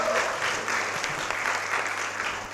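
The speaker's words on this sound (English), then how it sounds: "Let's clap for her again." An audience at a breakfast meeting bursts into steady applause, a dense wash of many hands clapping together, moderately loud and sustained for a few seconds with no talk over it.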